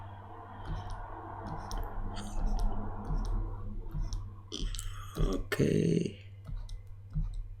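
Computer mouse clicks while editing a photo in Photoshop, a scattering of small close ticks over a steady low hum, with a brief spoken word.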